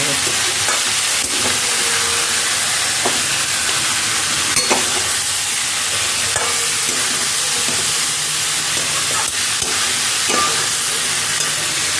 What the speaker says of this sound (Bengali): ভালো করে ভেজে নিতে হবে না লঙ্কা দিয়ে দিলাম ভালো কাশ্মীর লঙ্কা দেবো